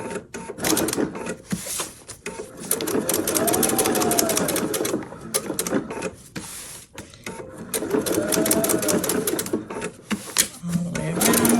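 A sewing machine stitches a child's fairy dress-up dress, a fast steady whir in two long runs separated by a brief pause, close and loud with small clicks around the stops.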